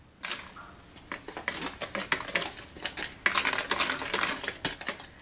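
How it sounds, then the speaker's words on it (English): Whole wheat flour and salt being stirred together in a bowl, giving brisk, irregular clinks and scrapes of a utensil against the bowl, fairly close and with no talking. "I'm just gonna mix this well."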